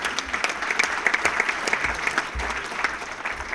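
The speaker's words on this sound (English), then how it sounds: "Let's give them a round of applause." An audience at a Jewish Labor Committee annual human rights event claps in a steady, dense round of applause, moderately loud and continuous, with a faint voice underneath.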